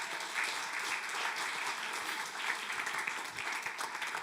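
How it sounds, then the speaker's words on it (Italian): A church congregation applauds steadily for a few seconds, dense even clapping filling the room at a constant level with no voices on top. "Applaudiamo Gesù."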